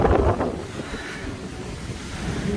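Strong wind roars on a seashore in Antalya, Turkey, during a storm, with surf rumbling underneath; a steady, loud buffeting with gusts swelling across the whole stretch and no talk.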